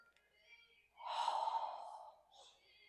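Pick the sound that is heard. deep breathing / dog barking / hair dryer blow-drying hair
deep breathing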